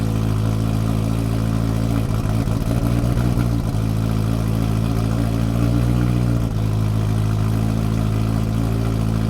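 Rebuilt 1980s engine of a Kimera EVO 037 idles just after starting, a loud steady low rumble with a slight dip and wobble midway as it settles.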